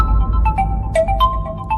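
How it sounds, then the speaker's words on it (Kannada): A mobile phone rings in a Kannada TV drama scene, a short melodic electronic ringtone with bright repeating notes sounding close and clear over a low background hum. "ಇದೇನ್ ಅಕ್ಕ ಇಷ್ಟೊಂದ್ಸಲ ಫೋನ್ ಮಾಡ್ತಿದ್ದಾಳೆ?"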